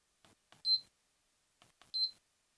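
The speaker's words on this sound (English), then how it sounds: "As we press single presses, it beeps as you listen" A remote control for a 42-inch dimmable outdoor ceiling fan with lights gives two short, high electronic beeps about a second apart, each just after a faint button click, in an otherwise quiet room.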